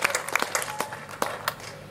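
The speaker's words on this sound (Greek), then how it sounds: "Του αξίζει ένα γερό χειροκρότημα από όλους." An audience at a church gathering gives a speaker a short round of applause: a handful of separate, fairly light claps scattered over two seconds that soon trail off.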